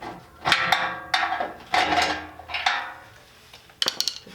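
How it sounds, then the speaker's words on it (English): An old, long-abandoned Dodge Challenger valance drops out onto the floor, making a few sharp metallic clanks and rattles. Between them are short gaps, and a final quick burst of small clatters comes near the end. "this old valance should fall right out onto the floor"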